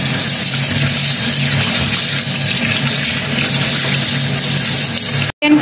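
Tap water runs steadily into a sink while pork bone is rinsed for pumpkin soup, a constant loud splashing hiss with a low hum beneath, cutting off abruptly near the end.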